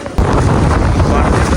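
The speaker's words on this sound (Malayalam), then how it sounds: "നല്ല ശക്തമായ കാറ്റും ശക്തമായ മഴയും പിന്നെയും വന്നു." Strong wind and rain at a hillside viewpoint in Matheran, heard as a loud, steady roar of gusts buffeting the microphone that starts abruptly and holds.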